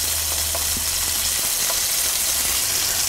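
Goose meat searing in a hot pan for dark browning, a steady broadband sizzle throughout with a faint low hum beneath.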